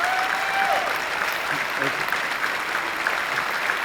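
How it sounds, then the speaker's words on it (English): An audience at a gaming fan convention presentation applauds in a dense, sustained burst of clapping, loud and unbroken, as a voice briefly speaks over it. "Applaud him again."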